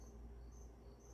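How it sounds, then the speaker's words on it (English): Crickets kept indoors as lizard feed chirp steadily at night, a faint, continuous high trill running through the whole stretch with no voices. "I apologize in advance for the crickets."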